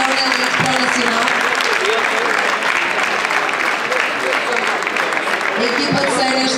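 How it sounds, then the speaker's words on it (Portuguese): A crowd at Gondomar SC's 2016-17 season presentation and pitch inauguration in Portugal gives loud, sustained applause throughout, with a voice over a speaker system talking on top. "Forte aplauso para eles, por favor."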